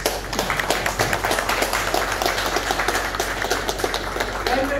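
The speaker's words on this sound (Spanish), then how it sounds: "Pido un fuerte aplauso." Audience applause at a meeting about a basketball tournament, a steady patter of many hands clapping throughout at moderate loudness.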